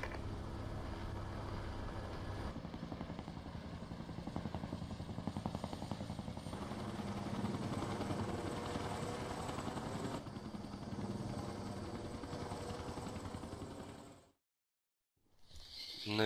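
A helicopter in the video game Battlefield: Bad Company 2 flies and lands, its steady rotor chop and engine roar holding loud for about fourteen seconds before cutting out briefly.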